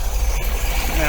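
An MGB sports car engine idling at about 800 RPM, a steady low rumble with even, throbbing pulses, close and loud, with a brief voice over it.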